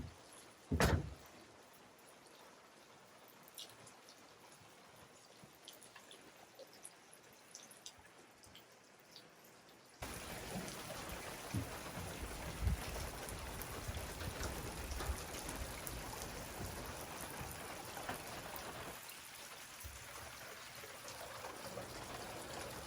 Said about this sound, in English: and it just started raining